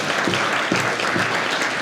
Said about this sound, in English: we can go ahead and clap that up.